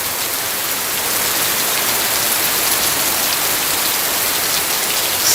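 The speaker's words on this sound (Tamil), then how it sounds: "செம்ம மழை பெய்யுது." Heavy rain pours down steadily at a temple in Kollam District, Kerala, a loud, dense, continuous hiss of drops with no breaks.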